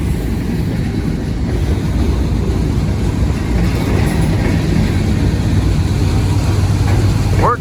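A heavy freight train working uphill rumbles steadily close by, a deep continuous roar with faint rail clatter and a brief high squeal at the end.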